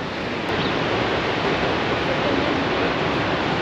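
Rhine Falls waterfall roaring as a steady, dense wash of broadband noise that fills the scene at close range, with no voices over it.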